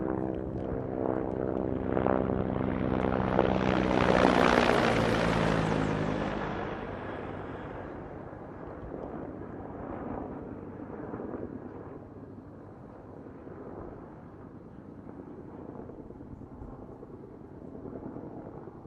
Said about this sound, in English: You can see the chopper is hovering and he's just about to drop his load